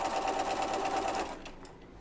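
A sewing machine runs steadily at speed with a fast, even mechanical chatter, close and loud, then slows and fades after about a second and a half.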